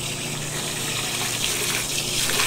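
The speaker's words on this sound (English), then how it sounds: "Let's just keep filling it up. I want to put a lot of water through it." Steady rushing water pours from a tap into a draining sink, a constant close splashing hiss with no talk.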